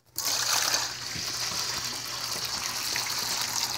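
Water gushes out in a steady close-up pour for a dog, splashing continuously into a container for several seconds after a sudden start.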